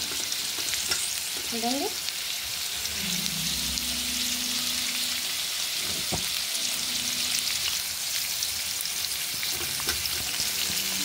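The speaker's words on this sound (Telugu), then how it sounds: "కొంచెం వేగినాక చికెను కొంచెం రోస్ట్ చేసుకోవాలండి" Chicken sizzles steadily in a hot pan as it roasts and fries, a constant crackling hiss running throughout with occasional stirring clinks, while a voice speaks briefly.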